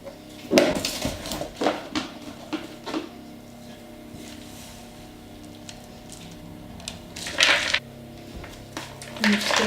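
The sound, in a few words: stirring chopped Easter egg chocolate into a mixture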